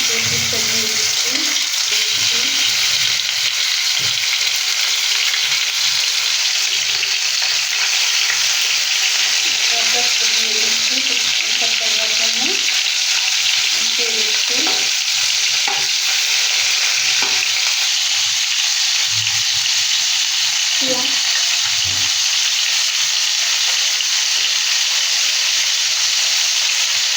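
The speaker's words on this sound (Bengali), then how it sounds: "দেখেন ঘিটা গরম হয়েছে, এখন আমি পেঁয়াজটা দিয়ে দিচ্ছি।" Onion frying in hot ghee for chicken roast, a loud, sustained sizzling hiss close up, with intermittent scraping and stirring clatter and brief low murmurs underneath.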